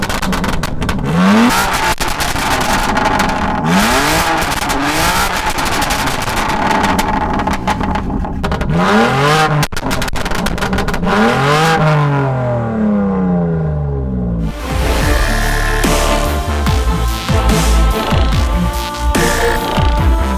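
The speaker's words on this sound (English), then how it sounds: "or the S58's Akrapovic full system exhaust." BMW S58 engine with a full-system Akrapovic exhaust revving hard, a series of loud rising and falling blips and sustained high-rev pulls over a deep idle, close with no talk.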